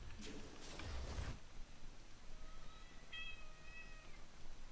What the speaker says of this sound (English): I've hear loud meowings again.